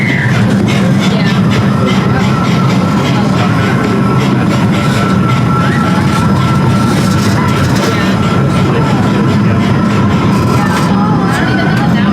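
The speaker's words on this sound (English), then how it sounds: "the train ride was fun" A miniature train ride at Hersheypark amusement park in Hershey, Pennsylvania, rumbling steadily along its track, with a continuous low rolling drone and faint clatter throughout and voices talking over it.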